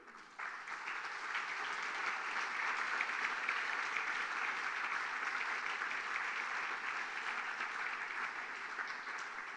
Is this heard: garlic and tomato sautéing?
no